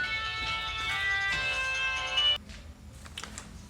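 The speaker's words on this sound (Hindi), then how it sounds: "आप देखो यही एडमिशन के लिए फोन आ रहा है" A mobile phone rings with a bright, tonal, repeating ringtone, fairly close, then it cuts off abruptly and faint background noise remains.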